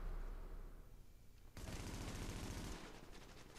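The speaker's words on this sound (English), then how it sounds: "So if I just press the fire button, this is what happens." Rapid automatic gunfire fired from cover in the video game The Division 2: a loud sustained burst of shots with dense rhythmic cracks, booming and close, no voices.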